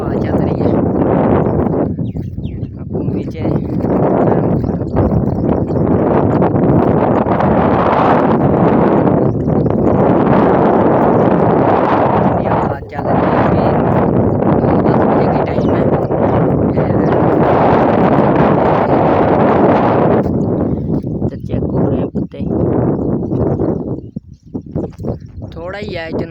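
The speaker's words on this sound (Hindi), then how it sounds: "हवा चल रही है।" Wind gusts roar steadily across an outdoor microphone, loud and buffeting for most of the stretch with a brief lull near the end, while someone talks over it.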